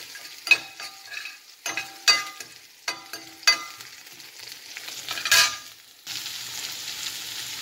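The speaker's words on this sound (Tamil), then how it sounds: "இஞ்சி, பச்சை மிளகாய் போட்டிருக்கேன், கருவேப்பிலை போட்டிருக்கேன். இஞ்சி கண்டிப்பாக போடணும் இதுக்கு. நல்ல இஞ்சி நல்லா வதங்கணும்." Ginger, green chili and curry leaves sauté in a pan for plantain puttu, with intermittent scraping stirs over a soft sizzle that grows steadier toward the end.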